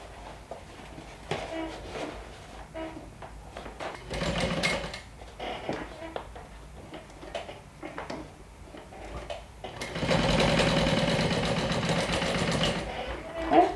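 A sewing machine stitches darts on a round-bottomed bag in short bursts of rapid clatter, with pauses and handling noises between runs and a longer, louder stretch of stitching near the end.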